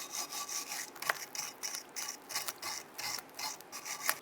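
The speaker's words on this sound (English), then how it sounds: "You use your bristle brush. You want to clean up where those go." A bristle brush scrubs back and forth on a brake bracket of a 2002-2008 Dodge Ram 1500, giving rhythmic raspy strokes, close and fairly quiet, with no talking.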